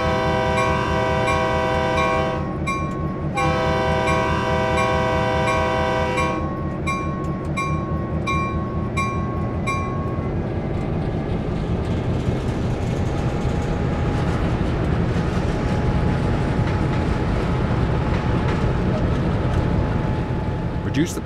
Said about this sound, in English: We'll be coupling to the passenger cars ahead and preparing the train for departure.